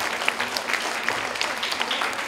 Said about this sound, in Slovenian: tudi njej zaploskamo